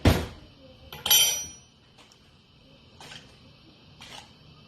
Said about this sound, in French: On va sortir une cuillère.